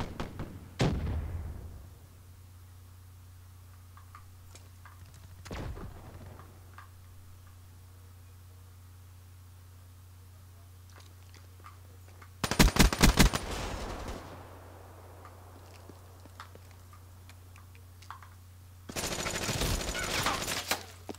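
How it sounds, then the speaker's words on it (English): Shotgun blasts in Black Ops 3 ring out as a few booming shots, then two loud bursts of rapid gunfire, with long quiet gaps and a low steady hum between them. "Oh, that shotgun."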